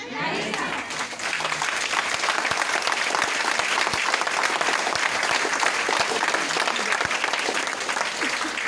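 Loud, dense applause from a seminar audience at a DXN health event, many hands clapping steadily throughout, with voices mixed in beneath the clapping.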